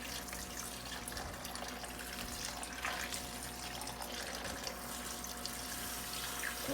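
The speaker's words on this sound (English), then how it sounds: "Now, I'm just going to put water in here, stir it up with my hand." Water runs steadily into a bowl of deer meat as it is stirred by hand for jerky, a continuous close splashing wash with no speech.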